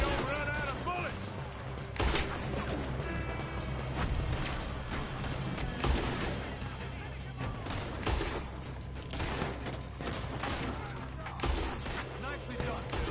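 A Red Dead Redemption 2 shootout with sustained, loud gunfire: rapid overlapping shots and bursts crackle continuously over a dense rumbling background, while character voices speak at moments.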